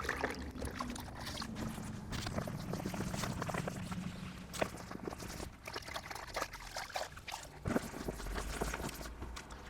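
Water runs and splashes as parts of a Lay-Z-Spa Milan inflatable hot tub are rinsed off during pack-up, a steady close trickling and pouring with intermittent spray bursts and no talk.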